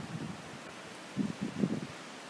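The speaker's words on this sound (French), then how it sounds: "Il y a du vent." Wind gusts before a storm at a beach, low buffeting rumbles against the microphone that come in uneven bursts over a soft, steady background rush.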